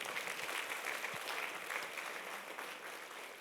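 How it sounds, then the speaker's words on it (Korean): An audience at a humanities lecture hall claps together in sustained, even applause that slowly fades toward the end, with no one speaking. "박수 한번 주시죠."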